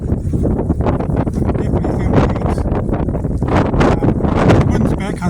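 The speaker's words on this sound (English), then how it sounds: "The wind's back, unfortunately, so hopefully it's not going to drown out my voice too much." Wind buffets a microphone on a hilltop, a loud, steady rumble with gusting surges that runs the whole time and covers the sound almost completely.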